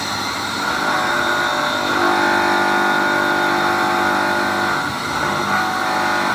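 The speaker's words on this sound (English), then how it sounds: "I'm applying a load on the electric motor. So that is how this functions. This is a 3 horsepower motor that has been modified" A modified 3 horsepower AC electric motor runs under load, giving a steady, loud mechanical hum and whine with a slight swell midway, continuous throughout and alone without talk.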